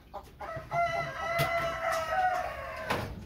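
A native rooster crows once, a loud, close call stretched over roughly two seconds with a rising start and a drawn-out, wavering finish, alone without any talking.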